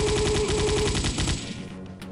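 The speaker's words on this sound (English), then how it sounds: "He's shooting like crazy." Enemy gunfire rattles in rapid bursts in the Macintosh version of Wolfenstein 3D, loud and fast before tailing off into a fading echo.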